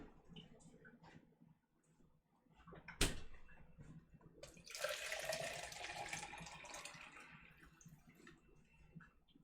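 A kitchen tap runs into a sink, water gushing steadily for several seconds after a sharp click and some quieter handling noises.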